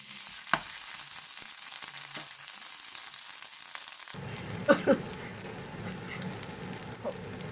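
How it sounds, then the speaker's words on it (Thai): Thai curry paste hits a hot pan and starts a steady crackling sizzle, with a few sharp spatters and a clink of a utensil, close and moderately loud. "พอ กระทะร้อนแล้วก็มาใส่พริกแกงค่ะ"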